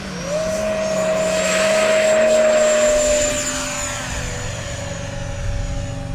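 A pair of E-flite F-16 model jets fly together in tandem at a National Model Aviation Day event, their steady engine whine swelling loud overhead and then settling into a slightly lower, continuous drone.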